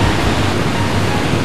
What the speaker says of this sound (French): Ah, les chutes d'eau sont plus importantes. C'est vraiment du niveau de la cascade.